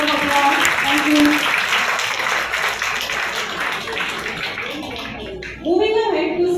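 Children applauding at a school scholarship distribution ceremony, a dense wash of claps filling the room, with children's voices and chatter mixed in and a tonal sound rising near the end.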